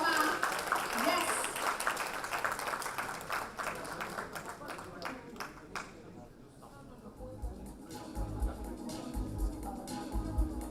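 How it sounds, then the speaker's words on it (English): An audience claps at a diversity and mobility awards event: the applause is loudest at first, then thins and fades beneath a speaker talking. "can we have a bigger round of applause for ma'am?"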